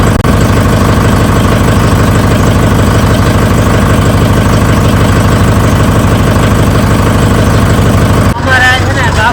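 Tractor and loader engines idle together in a convoy setting off from a village, a loud steady diesel rumble with knocking vibration throughout, briefly disturbed near the end.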